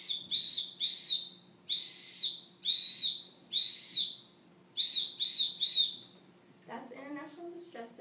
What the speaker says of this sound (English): You can blow this on a whistle, like I will now.